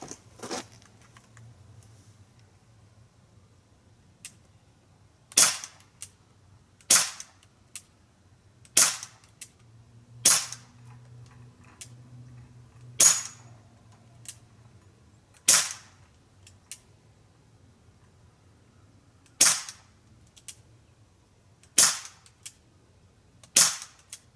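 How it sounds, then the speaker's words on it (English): Umarex C11 pistol fired left-handed at targets, about a dozen sharp, loud cracks spaced irregularly a second or two apart over a low steady hum. "Try the C11. It's the one I got to shoot left-handed."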